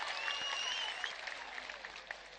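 An audience claps for a speaker at a live event, a dense sustained round of applause from a crowd at moderate distance, slowly tapering.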